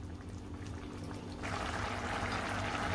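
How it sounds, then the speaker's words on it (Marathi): A chickpea and spinach curry (chana palak) simmers in a pot, with a soft, steady bubbling that grows fuller and louder partway through, heard alone up close. "आता भाजीला आपल्या उकळी आलेली आहे चांगली 2 मिनिटातच"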